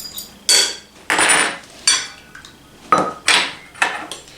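A spoon stirs cornstarch and juice together in a cup or bowl, knocking and scraping against the sides in about eight sharp, close clinks.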